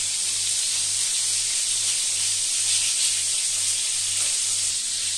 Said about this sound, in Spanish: Le damos la vuelta a los gambones.